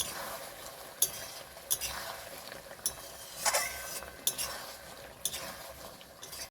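Chili chicken with a little sugar stirred in a pan, a utensil scraping and clacking against the metal in several sharp knocks over a steady background hiss of frying.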